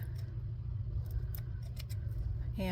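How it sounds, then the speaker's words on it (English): Scissors trim the edges of a paper heart cut from craft paper, giving a few faint, scattered snips over a steady low background hum. "I'm just going to trim it a little bit."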